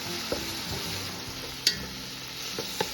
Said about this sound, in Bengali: এখন আমি মাছ ভাজা তেলের মধ্যে পেঁয়াজ কুচি রসুন কুচি আর আস্ত টমেটোটা একটা দিয়েছি